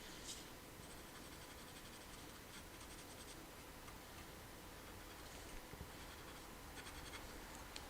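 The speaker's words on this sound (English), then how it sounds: "You're not supposed to press hard on colored pencils." A colored pencil moves lightly over paper while a dragon drawing is shaded, giving faint, close scratchy strokes that come in short bursts of quick back-and-forth scribbling with pauses between them.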